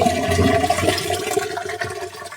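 Dissolved cow dung slurry pours and gushes into a biogas tank, a continuous rushing, gurgling flow of thick liquid that fades slightly toward the end.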